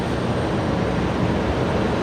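Qantas airliner taxiing out toward runway 01 right for a night departure at Brisbane Airport, a steady low jet engine rumble holding evenly throughout, with no talk.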